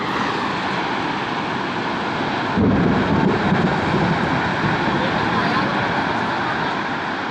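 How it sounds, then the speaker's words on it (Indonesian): Tornado-strength whirlwind winds sweep through Rancaekek and Jatinangor as roofs collapse, a loud continuous roar buffeting the microphone and swelling partway through, with voices mixed into the din. "Angin puting beliung di Kahatek."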